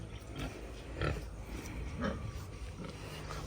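Native crossbreed pigs on a farm give low grunts and snuffles, a few soft grunts about a second apart over a faint, steady background, recorded fairly close.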